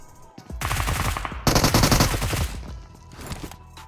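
Bursts of automatic gunfire in the PUBG video game during a solo third-person ranked match, with two loud rapid volleys close together followed by fainter, more distant shots.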